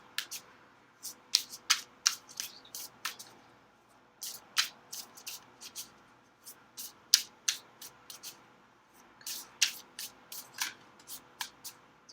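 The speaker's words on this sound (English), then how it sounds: "we're just going to go ahead and shuffle all the cards" Tarot cards being shuffled in repeated quick riffles and slides, close and crisp, with short pauses between bursts.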